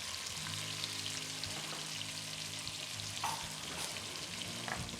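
Sliced onions and chicken thigh bones fry with seeds in a pan for chicken tikka masala, making a continuous close sizzle and crackle with a few soft stirring knocks, fairly quiet and steady, no talking.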